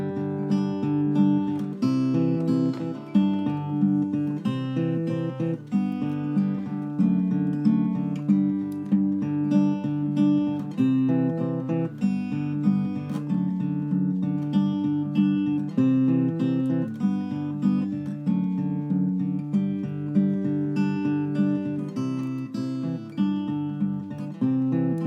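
Fingerstyle acoustic guitar plays a song arrangement with a busier, more active bass line under the melody, a steady stream of plucked notes, close and clear with no talking.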